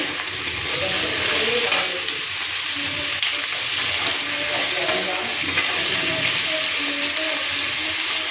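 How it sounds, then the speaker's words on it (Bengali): Potatoes fry in oil over a cumin tempering, giving a steady, even sizzle that runs throughout while a voice talks faintly underneath. "সমস্ত আলুটা দিয়ে দিলাম এবার ভালো করে ভেজে নেবো"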